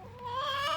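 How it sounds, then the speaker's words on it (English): A hen in a backyard chicken coop gives a short, rising, drawn-out vocal call close by, lasting under a second with no talk. "Here's one of my chickens getting a drink."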